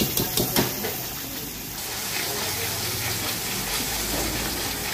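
Yogurt-based masala for besan gatte sabji hitting a hot pan, a steady broad hiss of sizzling that holds evenly throughout, with a few sharp crackles at the start.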